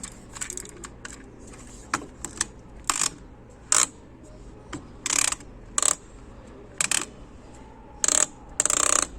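Sharp plastic clicks of a 2007 TMNT Mini Mutants Battle Shell toy mechanism when pushed, a dozen or so irregular snaps spread out over several seconds, close by with faint room hiss between.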